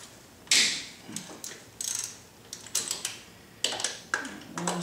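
A ratchet loosens a bolt on a Honda Civic VTEC solenoid, making a series of quick, close clicking bursts between short pauses.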